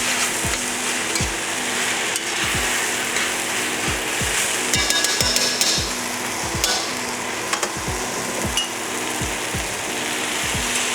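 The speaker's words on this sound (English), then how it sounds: "And I give it one more stir." A sizzling mixture in a pan is stirred in steady, repeated strokes, each scrape distinct against a continuous loud fry, with a few faint clinks partway through; no one speaks.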